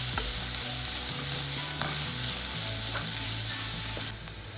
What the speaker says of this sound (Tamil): எல்லாத்தையும் நல்லா வதக்கிக்கலாம். ஃபுல்லாக குக் ஆகணும்னு அவசியம் இல்லை. நல்லா ஹை ஃப்ளேம்லேயே வச்சு சாஸ் பண்ணிக்கோங்க.